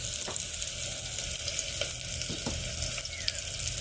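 Chopped onion frying in a pan as the base for a wheat and moong dal khichdi, giving a steady, close sizzle with a few faint clicks of stirring and no voices.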